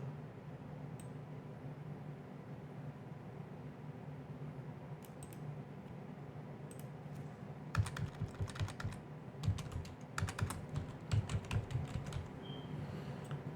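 Keystrokes on a computer keyboard, sparse isolated taps at first and then quicker bursts of typing, close and fairly quiet.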